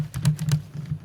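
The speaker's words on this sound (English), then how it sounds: "I can tap my keys a lot." Rapid clattering taps on a computer keyboard used for Fortnite play, a close, crisp burst of several quick keystrokes in uneven rhythm with a brief pause before a last light tap.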